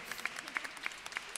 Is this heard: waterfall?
no